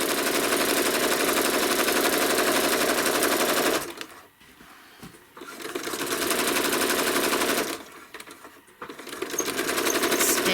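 A sewing machine stitches fabric for a small sewn pattern project, running in a loud, close, continuous whir that pauses twice briefly, with no talk.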